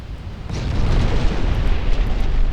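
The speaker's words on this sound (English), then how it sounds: "I just lost count of the number of enemy ships that exploded." Enemy warships blowing up in the naval strategy game Ultimate Admiral Dreadnoughts, a dense, continuous low roar of overlapping explosions and booms, loud and sustained with no speech over it.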